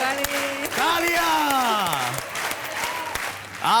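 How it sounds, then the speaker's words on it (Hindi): A studio audience on the Hindi TV game show Dus Ka Dum claps steadily for several seconds, a continuous close wash of applause with a voice talking over it. "तालियां"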